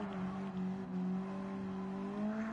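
A race car engine in Gran Turismo 7 holds a steady, droning tone at moderate level, with the pitch shifting slightly as it cruises through a corner, no voices over it.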